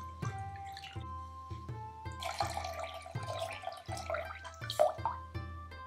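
Rice-rinsing water being poured into a pot, a close, steady trickle with splashing drips and faint clinks against the vessel, no voices.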